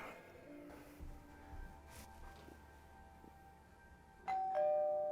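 A doorbell rings once near the end, a sudden loud electronic chime cutting through a quiet indoor room where faint murmurs and light movement were heard.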